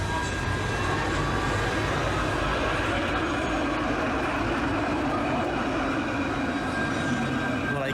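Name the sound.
tram passing on street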